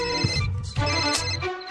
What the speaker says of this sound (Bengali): প্রাইভেট নাম্বার থেকে ফোন।